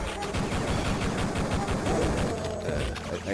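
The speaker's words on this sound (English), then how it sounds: "I'm just using the pistol when convenient" Pistol shots in Duke Nukem 3D, dense rapid reports packed together over steady game noise, loud and continuous with no clear gaps.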